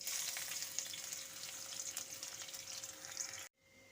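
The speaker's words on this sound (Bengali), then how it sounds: "এখন আমি পেঁয়াজের বেরেস্তাটা ভেজে নেব" Sliced onions sizzle steadily in hot oil, being fried into crisp golden beresta for a Bengali prawn bhuna; a dense, close crackle runs without a break, then cuts off abruptly near the end, leaving faint quiet.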